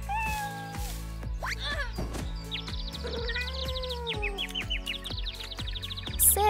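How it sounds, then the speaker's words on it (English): Cats meow repeatedly, some calls drawn out and others short and chirpy, close by over a low background drone. "Oh, there are cats somewhere."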